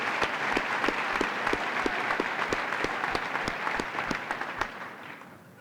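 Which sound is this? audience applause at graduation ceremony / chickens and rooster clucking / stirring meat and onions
audience applause at graduation ceremony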